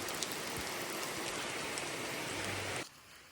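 Steady rain pours down in a village, a dense continuous hiss of drops on surfaces that holds evenly for nearly three seconds before cutting off abruptly into quiet.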